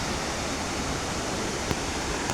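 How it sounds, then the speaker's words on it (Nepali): A waterfall at Chaharey in Manang, Nepal, pours down as a steady, loud broadband rush of falling water, continuous and close throughout with no voices. "झरना, ओहो ओ माई गड, ल झरना चाहिँ मजाले बढेछ है।"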